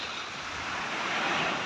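Waves splashing on the shore at a river mouth in Salcedo, a broad continuous wash of surf with wind noise rising slightly, loud and close, with no talk.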